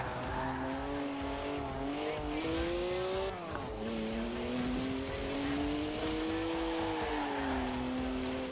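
BMW with a three-litre twin-turbo straight-six, 335 horsepower, drifting in Forza Horizon 4: a steady, loud engine drone with shifting pitch and tire squeal runs throughout, with a brief dip mid-run.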